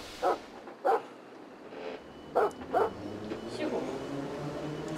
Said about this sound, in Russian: Собачки гавкают.